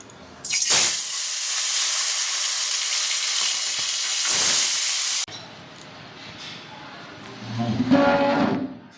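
Loud hiss of fish dropped into hot oil in a karahi, sizzling strongly for several seconds, then a quieter stretch with softer crackling and a final swell of frying.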